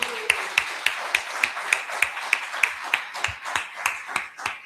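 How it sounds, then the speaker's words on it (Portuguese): A church congregation clapping in unison in a steady rhythmic beat, about three claps per second, sharp and fairly close, with a faint voice underneath at the start. "Aplauda o Senhor bem forte."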